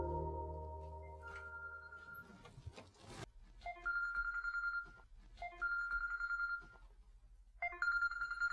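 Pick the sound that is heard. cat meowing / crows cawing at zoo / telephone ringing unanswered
telephone ringing unanswered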